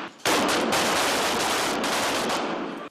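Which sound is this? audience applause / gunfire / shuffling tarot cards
gunfire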